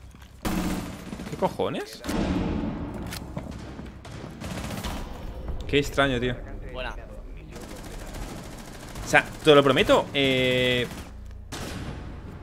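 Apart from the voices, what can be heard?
gunshots in Rainbow Six Siege video game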